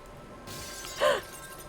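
A single short burst of glass shattering rings out in the Roblox game The Cinema Experience, a bright crash lasting a fraction of a second over quiet low background noise.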